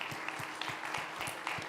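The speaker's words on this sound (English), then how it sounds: "So let's give a round of applause for our fantastic panel." A conference audience at a hepatitis summit in Chennai applauding a panel, moderate steady clapping from a medium-sized crowd in a hall, somewhat distant.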